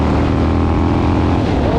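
Harley-Davidson Nightster motorcycle, a wide glide budget build, accelerating hard through the mid-range, a loud continuous engine roar with rising pitch and heavy wind noise, close up and sustained without pause.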